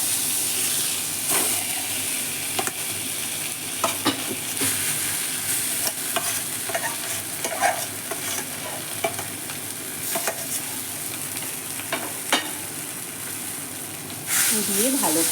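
Half a spoon of black cumin seeds frying in hot oil for a Bengali fish-tail and jackfruit-seed bhorta, giving a continuous bright sizzle with scattered crackles and utensil taps, rising into a louder burst near the end.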